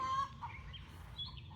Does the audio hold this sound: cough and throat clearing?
no